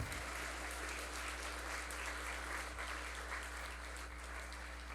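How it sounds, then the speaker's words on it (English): A dinner audience at an awards event gives an honor guard a round of applause, steady dense clapping heard at a distance over a constant low electrical hum. "I think we'll give them a quick round of applause before you're seated."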